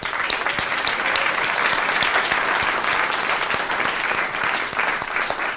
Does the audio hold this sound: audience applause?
yes